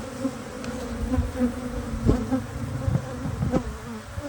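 Angry honeybees swarm and buzz inside a house during a removal job, a dense steady drone close by with occasional sharper passes as individual bees fly near, and no talking.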